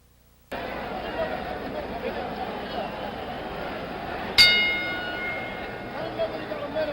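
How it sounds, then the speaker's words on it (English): A single sharp ring of a boxing bell opening round 11 of the 1977 George Foreman vs Jimmy Young fight cuts through steady crowd noise and commentary, its metallic tone decaying over a couple of seconds. "The bell for round 11"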